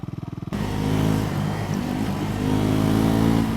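A Bajaj Triumph Scrambler 400X motorcycle runs under way with a steady, fairly loud engine drone and slight rises in revs, after a brief pulsing idle-like start.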